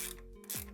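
Ratchet tightening the T-bolts of an exhaust clamp on a Harley-Davidson 2-into-1 exhaust, a short burst of quick close clicking with a brief pause partway through.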